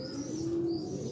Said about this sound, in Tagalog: Mag-iiyakan na yung mga ibon natin, yung mga YB nila.